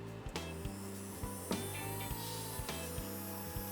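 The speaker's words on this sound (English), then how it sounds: "So here we go, a little bit of power to the motor." The small, freshly serviced electric motor of a wrecked, mouldy model GWR pannier tank engine runs with a faint, steady whir and a regular low pulsing beat, with no voices.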